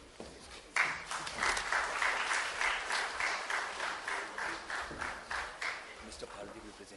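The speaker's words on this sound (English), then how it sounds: "Can we really have a bigger round of applause?" An audience applauds at a literature festival as mementos are presented to guests, a sudden burst of clapping that stays full and sustained for several seconds, with crowd voices mixed in.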